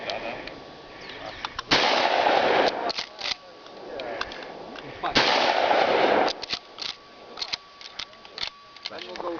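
Loud, sharp gunshots ring out at a shooting range, two long bursts of heavy blasts with scattered single cracks and clicks between them, while people speak nearby.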